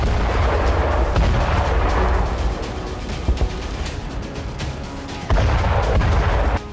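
A FAB-500 bomb attack on a Ukrainian base near Bakhmut: loud, dense booming blasts and rumbling detonations that roll on continuously, with sharper impacts mixed in and no voices.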